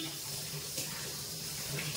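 Tap water runs steadily in a kitchen sink while dishes and rice are rinsed, a continuous close splashing wash with no talk over it.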